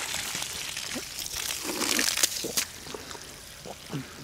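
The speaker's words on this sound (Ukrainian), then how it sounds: "Ми кожен день практично спускаємо воду" Water gushing and trickling out of a well pipe in irregular surges as the well is drained, fairly quiet, with a few faint clinks and rustles around it.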